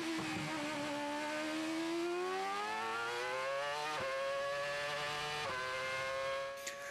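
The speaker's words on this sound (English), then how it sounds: "The cars accelerate uphill towards the straight." Formula 1 car in a simulation accelerating uphill onto the straight at Interlagos, its high engine whine climbing steadily in pitch with sharp drops at two upshifts, continuous and fairly quiet.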